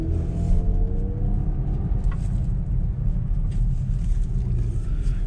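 A car backs out of a parking spot in a dealership lot, with a low engine rumble and idle close by, steady and unhurried, no talking.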